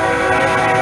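A train passes nearby, its horn a loud sustained chordal blare over rumbling wheels, filling the brief moment alone.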